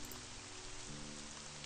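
Steady, even rainfall hisses continuously at low volume throughout, with a faint low hum underneath, in the Seven Mysteries video game.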